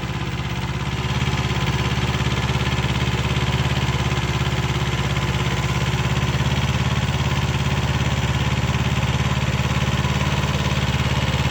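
A Kubota B5001 compact tractor runs steadily while tilling ground with a rotary tiller, its mid-pitched engine close and constant with a rough, chugging drone throughout.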